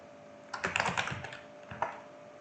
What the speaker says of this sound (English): I will type over here first name.